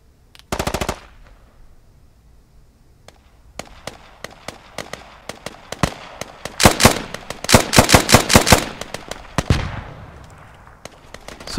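Gunfire in the video game SQUAD: a short opening burst, then scattered single shots building into long, loud rapid automatic bursts that crackle close by before tapering off.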